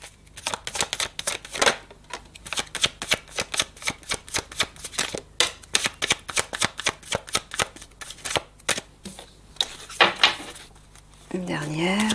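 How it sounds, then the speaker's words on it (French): Tarot cards being shuffled by hand before three are drawn, a long run of rapid, crisp riffling flutters close by, with a brief voice near the end. "Allez, 3 cartes, s'il te plaît, Michael."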